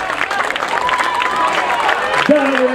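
An audience at a junior and adult bugg dance competition in Uppsala cheers and applauds steadily, a loud mass of crowd noise. A sustained musical tone is audible beneath it.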